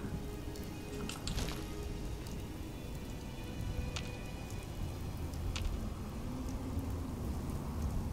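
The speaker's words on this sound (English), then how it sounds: "and it's raining." Steady rain patters down in a video game's soundscape, with a few faint, distant thunder rumbles and occasional crackles under a constant hiss; no talking.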